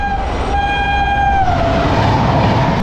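The 12311 Netaji Express horn sounds at Howrah station, a loud sustained horn tone that steps up in pitch before giving way to the rumble of the arriving train.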